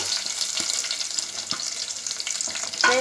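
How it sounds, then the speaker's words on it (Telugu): Chopped garlic, onion and curry leaves fry in a pan for a yogurt amaranth dal, a soft, quiet sizzle and crackle with a few light clinks of stirring. "వేసుకొని కలర్ మారే వరకు వేయించుకుందాం"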